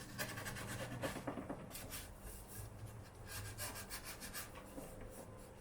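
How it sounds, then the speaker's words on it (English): Sandpaper rubs back and forth over scratches on a Scout Carbon paramotor's carbon frame, giving a steady, close scraping texture with repeated short strokes for several seconds. "We're just going to sand it a little bit until it feels kind of a little more smooth and not so jaggedy"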